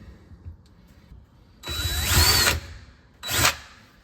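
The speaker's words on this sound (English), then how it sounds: "now we're using our 1/4 inch bit." A power drill with a 1/4 inch bit bores a hole during a reverse osmosis water filter installation, with one sustained high whine lasting about a second, followed by a shorter second burst, loud and close.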